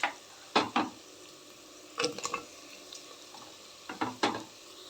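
Boiled potato pieces being tipped into a pan of cooking sago potato khichdi, heard as a few separate bursts of sizzling and scraping stirs with quieter gaps between them.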